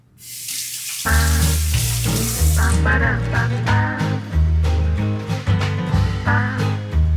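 Hands are rinsed under a running tap, with a steady loud rush of water splashing into the sink and shifting as the hands move through the stream.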